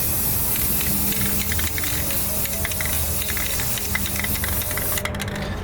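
Aerosol can spraying black primer onto miniatures and crafted discs, a steady close hiss running nearly the whole clip with faint rattles and clicks underneath, cutting off just before the end.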